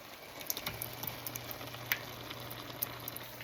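Crushed tomatoes for a traditional lasagna sauce sizzle steadily in a pan, a soft continuous fry with small pops and spits, fairly quiet and alone.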